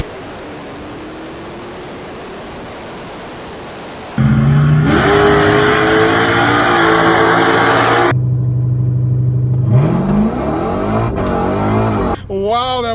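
A Dodge Hellcat, a big heavy four-door sedan, racing with a loud close engine roar that cuts in abruptly, revving and shifting pitch through the gears, then dropping and climbing again before a brief break.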